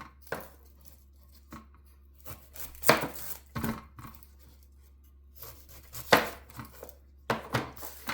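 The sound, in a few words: knife dicing an onion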